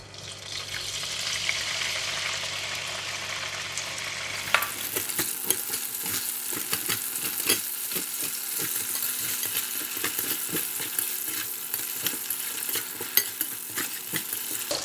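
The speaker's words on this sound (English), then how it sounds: "I'm going to fry the tofu first" Tofu frying in hot cooking oil in a pan, a steady loud sizzle with crackles that flares up suddenly and continues without a break.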